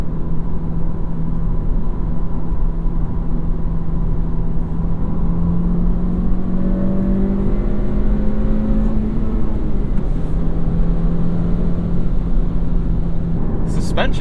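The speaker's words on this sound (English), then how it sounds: "little rev match downshift, but then yeah, just getting to really feel the car's competency through a long sweeper like this" A 2025 Honda Civic Si carries steady engine drone and road rumble through a long sweeping corner, with the engine tone gliding up briefly and a light whir underneath. The sound stays continuous and moderately loud.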